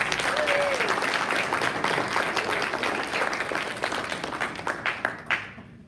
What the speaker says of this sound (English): Another round of applause for the judges.